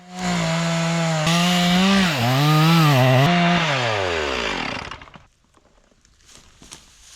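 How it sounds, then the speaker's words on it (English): A chainsaw cuts firewood, its engine revving high and bogging as the chain bites the log for about five seconds, then cutting out, leaving faint rustling and knocks. "Looks like my saw is pulling pretty hard to the right."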